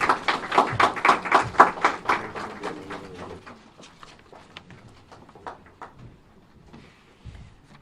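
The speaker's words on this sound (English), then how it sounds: "Round of applause, please." At a hotline launch event, a small audience gives a burst of close, crisp applause that rattles for about three seconds, then thins into a few scattered claps and faint room noise.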